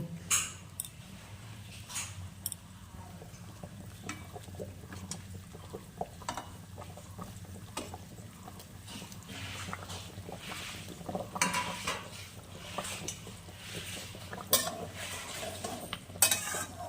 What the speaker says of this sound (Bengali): ঝোলটা ফুটে গেছে, এবার আমি মাছগুলো দিয়ে দেব